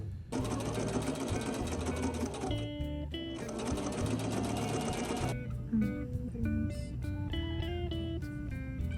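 A sewing machine stitches fabric for a make-up bag in two fast, steady buzzing runs of about two seconds each, separated by a brief stop, then falls quiet while faint background tones continue.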